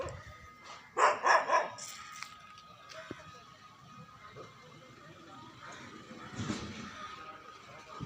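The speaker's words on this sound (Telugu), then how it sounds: "నన్ను చూసి డాగ్ అయితే మరుగుతుంది" A dog barks in a quick burst of three or four loud barks nearby, then quieter sounds and a distant voice follow.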